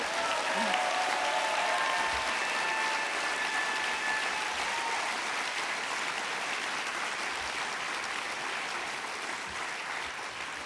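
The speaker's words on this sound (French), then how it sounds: "je voulais vous inviter à leur offrir un tonnerre d'applaudissements" A crowd at the NIFFF 2016 film festival closing ceremony breaks into sustained, thunderous applause, dense clapping that holds strong for several seconds before gradually thinning, with a few faint voices underneath.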